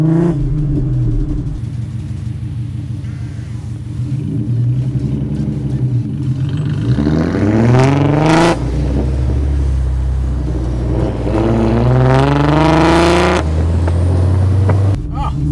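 A boosted manual Ford Mustang engine revs up in loud, rising pulls, dropping between gear changes and climbing again, heard close from inside the car with brief voices underneath.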